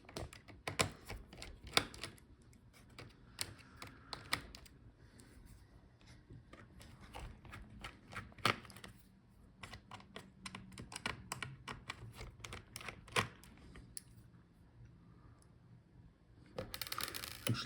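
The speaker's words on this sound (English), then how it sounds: "Now let's take out all the remaining screws." Small screws being removed from a Dell G15 5515 laptop, faint close clicks and light scraping taps at an uneven pace, with quieter gaps between bursts.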